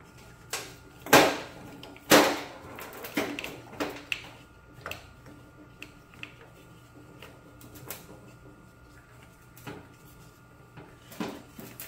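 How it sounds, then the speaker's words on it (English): The starter rope pulley of a STIHL MS180C chainsaw is wound by hand, giving two sharp scraping clacks near the start and then a series of lighter, irregular clicks and rattles, close and with no talk. "we're going to keep pulling this rope around in a clockwise fashion until the spring tension cannot be wound anymore"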